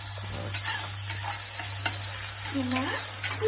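Chopped onions frying in a pan over a medium flame give a low, even sizzle with occasional soft scrapes of a spatula, under a steady background hum and with no talk.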